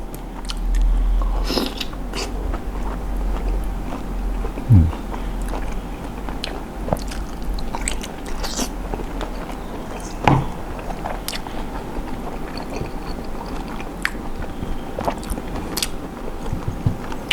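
Fried squid eggs dipped in spicy seafood sauce being bitten and chewed up close, a steady run of crunchy, moist mastication with occasional sharper crunches and no speech.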